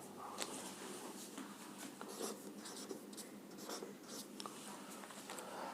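A pen writes physics equations on paper for an electric circuit problem, making faint, close scratchy strokes with short taps between them. Nobody talks over the sound.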